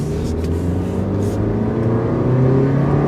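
A small car revs at full throttle from inside the cabin, its engine note climbing steadily in a loud continuous drone with faint wind and road noise.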